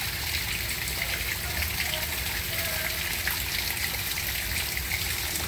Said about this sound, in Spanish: Miren cómo me está cayendo el agua aquí. Siempre yo limpio esta gotera aquí.